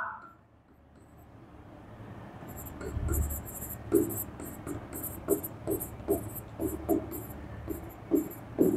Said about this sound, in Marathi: ह्या ठिकाणी मी टेबल लिहितो.